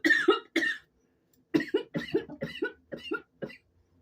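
A person coughs in a quick double burst, pauses, then breaks into a longer run of about eight close, dry coughs, loud against an otherwise quiet room.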